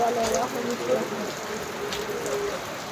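Rain falls steadily in a soft, even patter, fairly quiet and continuous throughout the short stretch.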